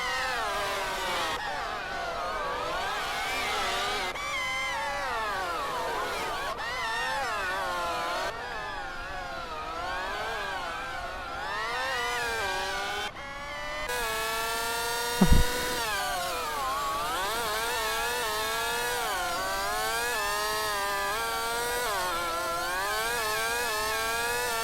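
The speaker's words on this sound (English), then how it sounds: "God, the Ford sounds so annoying at 5 times speed." A Ford race car engine, sped up fivefold, whines continuously at a high, buzzing pitch, swooping repeatedly up and down through gear changes, with a single sharp thump partway through.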